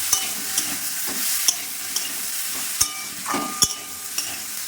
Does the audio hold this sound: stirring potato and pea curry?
yes